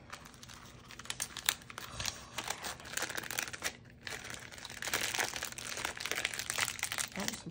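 Waterproof plastic packaging heavily wrapped in tape is crinkled and torn open by hand, giving a near, continuous run of rustling, crackling bursts with brief pauses.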